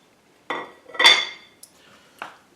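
A plate and a pan being handled while an omelette is served: a few separate clattering knocks of crockery and metal, close and fairly sharp, with quiet gaps between them and no talking.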